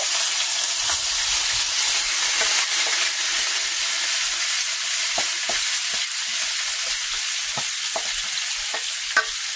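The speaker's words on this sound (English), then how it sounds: "So let's get these potatoes on the grill" Potatoes and onions fry in a little oil on a grill, producing a loud, continuous hissing sizzle with occasional sharp crackles and pops, no voices.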